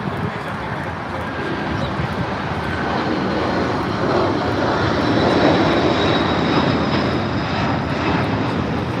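Jet engines thunder steadily as an airliner accelerates down the runway at LAX on its takeoff roll, the dense rumble building gently louder toward the end.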